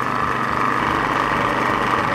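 A food processor pulses pecan shortcrust pastry dough of butter and flour, its motor giving a steady, loud, high whirring drone that holds evenly throughout with no talk.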